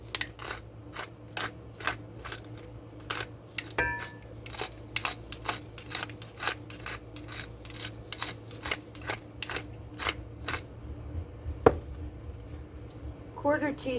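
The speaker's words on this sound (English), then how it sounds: "We are going to be using the grinder" Hand pepper grinder grinding black pepper, a steady series of sharp, crisp clicks at an even pace, close by and fairly quiet, continuing throughout.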